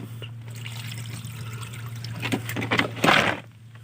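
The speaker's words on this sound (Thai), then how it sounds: "เดี๋ยวน้ำออกนิดนึงก่อน" Water let out in a small trickle while setting up a nursery for apple snails at a rural home, a soft continuous flow over a low hum that swells into a brief louder gush before fading.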